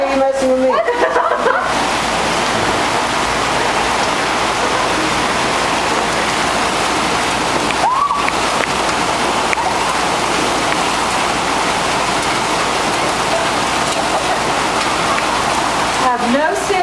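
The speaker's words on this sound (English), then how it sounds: "It's raining in Crane, Texas." Rain pours steadily in Crane, Texas, a loud, even hiss of drops on surfaces that lasts throughout, with brief voices and laughter at the start, midway and at the end.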